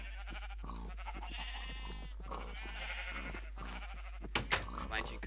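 Sheep in Minecraft bleat several times in wavering, repeated cries over a low steady hum, with someone talking over them.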